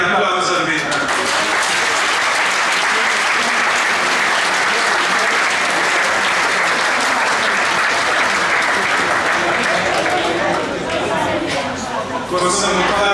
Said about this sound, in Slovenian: En aplavz za Petra.